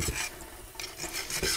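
An abrasive stone rubs enamel off a copper clay cuff in short, gritty rasping strokes, close and fairly quiet, with a brief lull midway.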